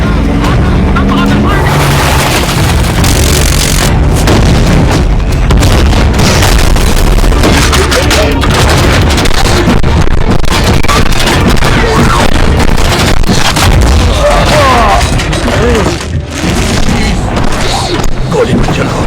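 Gunfire and explosions fill a loud, dense action battle scene from Transformers: Age of Extinction (2014), with continuous booming blasts and engine-like rumble throughout as voices shout over the chaos.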